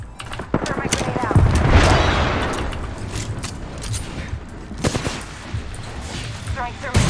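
Gunfire from a fusillade of shots and a heavy grenade blast erupt in an Apex Legends match, sharp cracks and booms recurring throughout with a muffled explosion swelling near the start, while a voice talks over the action.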